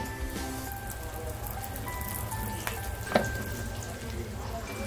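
Oil heats in a pan on the stove before onion and spices go in for a cluster bean thecha, a low steady sizzle with a sharp clink partway through.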